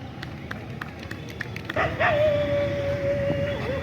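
A police dog performs an obedience display at a Republic Day parade outdoors, giving a drawn-out whining yelp over crowd ambience and faint talking.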